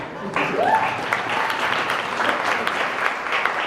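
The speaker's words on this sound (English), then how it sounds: "you've got to give him a round of applause for tolerating me" Audience applause at a talk on vodcasting, a steady burst of clapping from a crowd with a voice briefly over it at the start.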